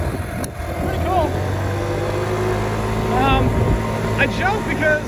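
Honda Ruckus scooter engine idling and running steadily, a continuous low drone close by, with a voice talking over it and a few brief higher tones on top.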